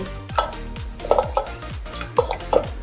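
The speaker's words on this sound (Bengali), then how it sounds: "এখন একটা ডাল কাঁটা দিয়ে ডালটা ঘেঁটে নেব" Boiled masoor lentil dal being stirred and mashed with a metal dal masher in a pressure cooker pot, giving repeated scraping clinks and knocks at a steady rhythm, close and moderately loud with no talking.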